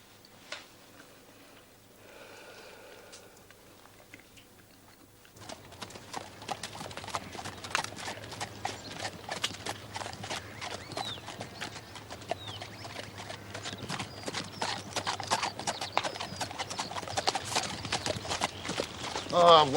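Horse hooves clip-clop at a steady walking pace on a hard surface, starting faint and distant, then growing louder and closer after a few seconds and continuing at an even rhythm.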